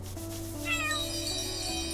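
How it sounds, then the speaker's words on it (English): A cat in the video game Chained Echoes meows when petted, a clear rising and falling meow over steady game background music. "Oh, gotta pet the kitty."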